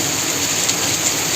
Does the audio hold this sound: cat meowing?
no